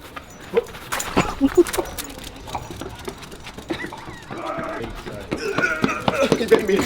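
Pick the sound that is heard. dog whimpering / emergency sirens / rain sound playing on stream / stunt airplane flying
dog whimpering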